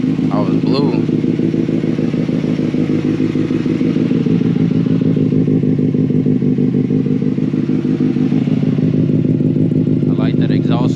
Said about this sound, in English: I like that exhaust note.